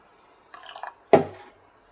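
Water poured over a mix of corn kernels, peanuts and chickpeas in a pot, a short splashing burst near the mic preceded by a few lighter rattling contacts, then quiet.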